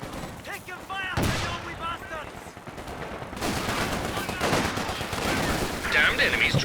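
Dense gunfire crackles in a Company of Heroes 2 battle, rapid machine-gun bursts and sharper shots layered with explosions and game effects, with a voice talking over the action.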